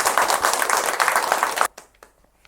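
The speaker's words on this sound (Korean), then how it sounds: "박수 한번 쳐주세요." An audience at a Korean Buddhist temple doctrine lecture orientation claps loudly in a dense burst that stops abruptly, leaving only a few scattered faint claps and room noise.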